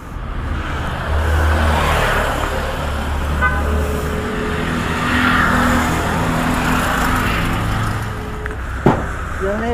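A motorcycle engine idles steadily and close by throughout, with a low rumbling drone on a delivery stop, rising slightly in places and ending with a short sharp knock near the end.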